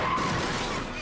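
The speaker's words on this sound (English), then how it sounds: "A female driver has just crashed her car in downtown Philadelphia" A car skids hard on a downtown Philadelphia street as a female driver crashes, a brief loud rush of tire noise and road rumble lasting about a second, with no voices.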